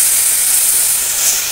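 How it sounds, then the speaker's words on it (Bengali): Steady loud hiss of water poured into a hot pan of crab and greens curry, a continuous bright sizzle with no pauses. "এবার একদম অল্প করে একটু জল দিয়ে দেবো,"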